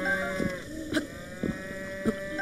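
Cow mooing at the Hateno farm in Zelda Breath of the Wild, a low sustained moo under steady ambient game music with soft repeated footstep-like thuds.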